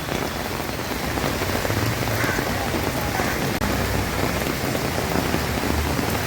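Heavy, steady overnight rain pouring down continuously on a waterlogged LBS Road, a dense hiss of drops on surfaces with no talking.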